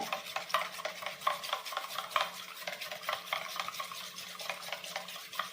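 Coffee powder mixture is whisked briskly in a small container until frothy, producing rapid, rhythmic scraping and tapping strokes that stay close and moderately quiet with no talk.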